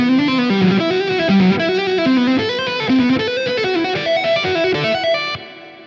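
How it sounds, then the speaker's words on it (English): A distorted electric guitar with chorus plays a fast string-skipping tapping lick in Lydian mode, a rapid stream of legato notes leaping across strings, loud and up close, ending with a short fade. "I'm going to show you a string skip tapping lick that you can use in the"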